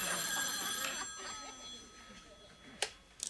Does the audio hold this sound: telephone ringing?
yes